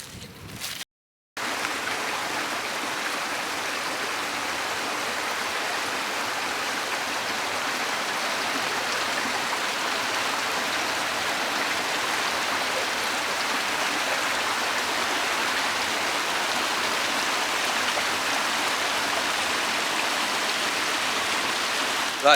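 A brook runs with red iron-stained water beside the old Change Colliery at Sharneyford, Bacup, giving a steady, loud, close rushing flow that continues unbroken after a brief cut near the start.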